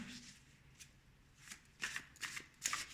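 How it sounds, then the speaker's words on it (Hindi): Tarot cards being shuffled by hand in a quiet room, soft riffling bursts that grow busier and louder toward the end, with faint rustling between them. "टैरो से लेंगे हम कुछ कार्ड्स। शफल कर रही हूँ मैं।"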